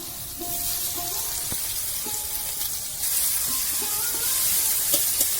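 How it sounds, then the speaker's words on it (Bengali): Chopped onion sizzles in hot oil for a rohu fish curry, with a steady crackling fry and a few stirring clinks, growing a little louder partway through. "এবার পেঁয়াজ কুচি দিয়ে দেবো"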